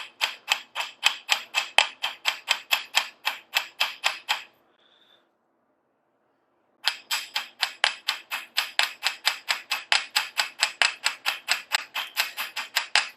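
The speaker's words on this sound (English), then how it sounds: "you want to kind of tap with the motion going towards where you want to bring that wire" A hammer taps bare copper wire to flatten it for earrings, in fast, steady runs of sharp metallic ticks that pause briefly in the middle, close and fairly loud with no talking.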